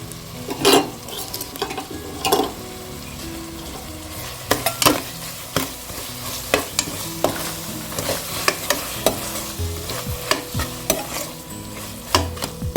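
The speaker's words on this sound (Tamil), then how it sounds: "அதை சேர்த்து நல்லா வதக்கிங்க." Tomatoes and curd sautéing in a pan for cooker egg biryani: a continuous sizzle broken by repeated sharp scrapes and clinks of a spoon stirring against the metal vessel, close and fairly loud.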